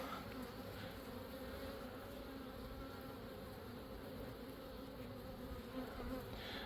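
Honey bees buzz steadily and close throughout a hive inspection, a dense continuous hum with no talking.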